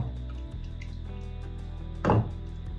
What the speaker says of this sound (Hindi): तो थोड़ा सा हम पानी ऐड कर लेंगे, क्योंकि थोड़ी कंसिस्टेंसी भी सेट करनी है हमने सॉस की।